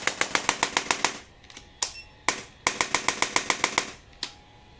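A 750N chiropractic spine adjuster gun fires at full power in rapid bursts of sharp, loud mechanical clicks, several runs of about eight quick impacts each, separated by brief pauses and a few single shots.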